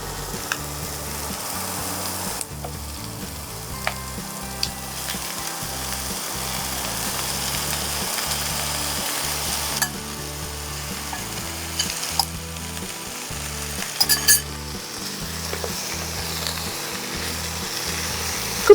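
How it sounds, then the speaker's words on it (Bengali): Chicken frying in oil and ghee in a pan gives a steady, close sizzle that continues throughout, with occasional sharp clinks and scrapes of stirring. No one speaks. "একটু ঘি দেবো। একটু ঘি ইউজ করবে। এবারে চিকেনটা দিয়ে দিচ্ছি।"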